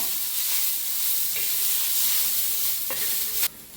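Green chilies and peanuts with garlic frying in a pan, a steady close sizzle and crackle running throughout, with a few brief stirring scrapes near the end.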